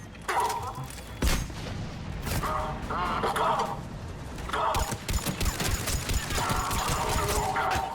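Combat in the Mass Effect 3 video game: rapid bursts of gunfire crackle continuously with a thudding grenade blast early on, dense and loud throughout, under scattered shouting.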